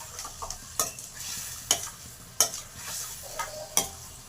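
Liver curry cooks in a pan with a soft bubbling sizzle, broken by sharp, regularly spaced scrapes and knocks of a spoon stirring, close and moderately loud.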